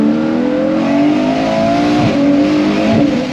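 A Ferrari 812 GTS with its front-mounted 6.5-litre V12 and the top open, revving loud and close with a steady high engine drone that dips and surges slightly toward the end, no talking.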